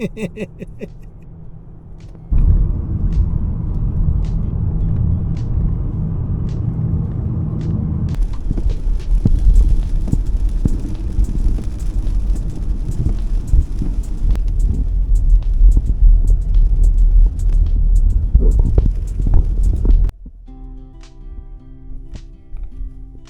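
Inside a car on a road trip in England, a low engine and road rumble fills the cabin, steady and close, with faint knocks and taps over it.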